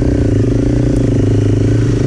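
A 990 motorcycle engine runs hard on a graded dirt road, a loud, steady, close drone with dense low harmonics and no breaks, holding strong throughout.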